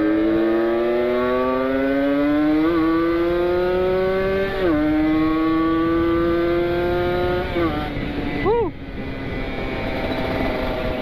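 A Kawasaki Ninja 150 RR motorcycle revving at full throttle on a Ciwidey Sunday ride, its screaming high-pitched engine climbing through gears with brief shift dips, loud and close, ending in a sharp blip.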